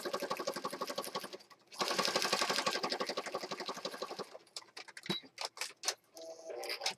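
A sewing machine stitches around the edges of scrappy spring journal pages, running in rapid mechanical bursts broken by short pauses, with light clicks and handling noises near the end.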